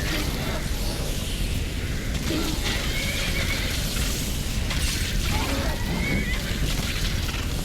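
A horse in the video game Skyrim whinnies amid a dense, steady bed of game ambience that covers the whole stretch, with no clear break in the noise.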